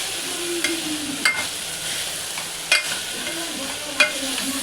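Tomatoes and onion sautéing in a pan, a steady soft sizzle with a few sharp scrapes of a spatula stirring at irregular intervals, close and moderately quiet.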